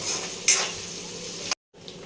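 Onions frying in a pan, a continuous hiss of sizzling with a brief louder clatter of stirring, then a short cut to silence before the sizzle resumes.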